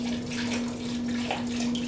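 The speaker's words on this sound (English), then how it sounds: "Good gush of water." Tap water gushes steadily and loudly into a pot of bones being filled for bone broth, a continuous close rushing pour with a faint steady hum underneath.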